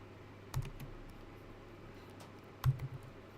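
A few keys tapped on a computer keyboard, two short clusters of soft clicks separated by a quiet pause, close and faint.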